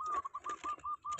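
A perkutut (zebra dove) coos close by in a quick, rhythmic series of about nine short, high notes.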